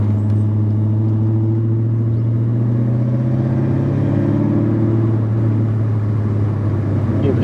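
A 1993 Ford Mustang SVT Cobra's original 5-liter V8, 5-speed, idles steadily with a deep continuous rumble, loud and close, no talk over it.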